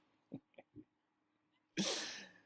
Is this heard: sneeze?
yes